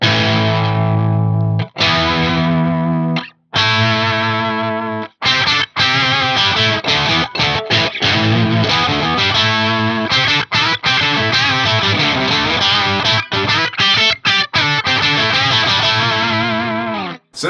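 Heavily distorted electric guitar power chords run through a Fractal AX8 pitch block set to fixed harmony, a thick doubled tone played loud in several sustained strokes with brief gaps between them.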